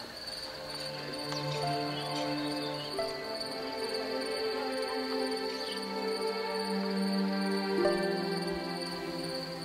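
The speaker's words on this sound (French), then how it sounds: "On n'entend plus que le chant des cigales" Cicadas sing at night in a quiet village, a steady layered chorus of high trilling and buzzing at moderate distance with faint background hum and no voices.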